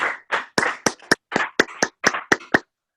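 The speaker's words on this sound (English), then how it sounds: "You're gonna clap." Roughly eleven loud, close hand claps ring out one after another at a brisk, slightly uneven pace, alone with nothing else heard between them.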